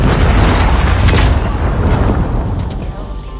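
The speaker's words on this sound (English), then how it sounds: "Predator missile inbound." A Predator missile strike explodes in a video game, a loud, deep rumbling blast that holds heavy and broad for several seconds before slowly easing off.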